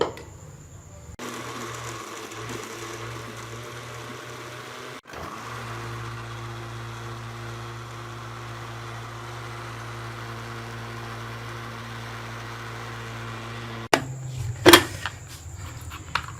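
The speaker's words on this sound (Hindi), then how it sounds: "इसके साथ ही हम इसमें एक कप जो है वो कंडेंस मिल्क शामिल कर लेंगे और इन चीज़ों को अच्छी तरह से ब्लेंड कर लेंगे।" A kitchen blender whirs steadily as it blends mango ice cream batter with condensed milk, a continuous close motor drone that cuts off near the end, followed by a few clattering knocks.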